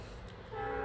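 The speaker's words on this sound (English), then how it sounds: "I'm about to lose control on this goddamn train that want to blow his horn every time I start saying something" A train horn sounds in a brief burst, then swells into a loud, steady, sustained tone, heard clearly with no talking over it.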